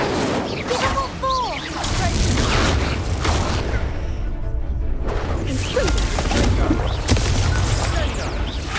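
Casting of the Incendio fire spell in Hogwarts Legacy on PS5 produces a steady roaring, crackling burst of flame with bangs and smashes scattered through it, close and loud, and a brief lull in the middle.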